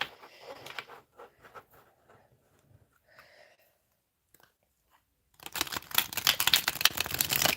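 Rapid papery riffling bursts of a thick deck of cards being shuffled, close and crisp, building into a dense continuous flutter after a few quieter taps and clicks.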